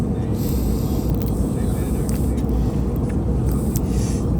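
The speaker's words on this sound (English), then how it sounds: "this is an Airbus 321" Steady broadband cabin roar inside an Airbus A321 airliner cruising between Dallas and Boston, a continuous loud rumble that holds evenly throughout with no breaks.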